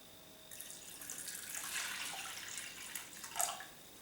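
Water poured into a pot while cooking a Tunisian cuttlefish tajine, a short, faint splashing stream that rises and trails off over a few seconds, close and without talk.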